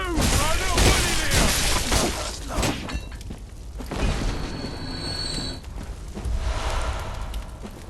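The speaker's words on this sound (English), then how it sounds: "You can actually fire the cannon." In the Bloodborne video game, a cannon fires in a dense, loud barrage of booming blasts and shattering impacts, layered with clattering mechanical noise and game effects throughout.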